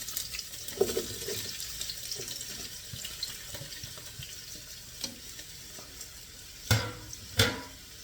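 Sliced onions sizzling in hot cooking oil in a pan, the first step of chicken liver adobo: a steady close frying hiss with a few light stirring scrapes and two sharp clatters near the end.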